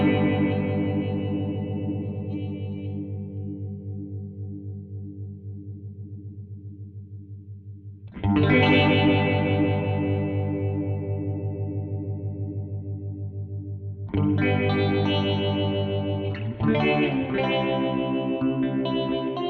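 A guitar runs through a ring modulator pedal, producing metallic, clangorous sustained chords that ring and slowly decay, with sharp new attacks near eight seconds, fourteen seconds and seventeen seconds, loud and close, no talking.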